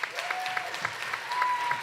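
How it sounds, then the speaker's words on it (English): An audience claps steadily in a warm, sustained round of applause at a livestreamed event, with a faint tone running beneath the dense patter of hands. "y'all give them a big round of applause"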